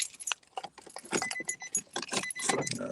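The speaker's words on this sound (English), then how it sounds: "Let me get these damn keys out the damn way." A bunch of keys jangles and clinks repeatedly in close, irregular bursts, with a faint car sound in the background.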